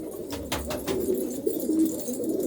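Pigeons coo softly and steadily in a village pigeon loft near Phagwara, with a few brief higher chirps over the low, continuous murmuring.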